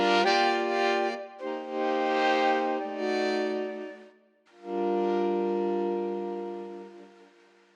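Sampled big band brass from SWAM v3 plays sustained chords, several in succession with short gaps, rich and harmonically dense, the last held long and fading out.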